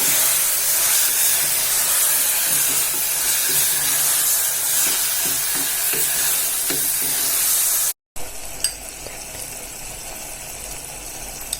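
Capsicum and tomato sauté in a hot pan with turmeric, chili powder and salt, giving a steady, loud, broad sizzle and hiss that runs on without pause and drops off sharply near the end.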